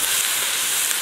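Scallions and ginger dropped into a hot pot for abalone noodles give off a steady, close, loud sizzling hiss that stays even across the brief moment, with no voices.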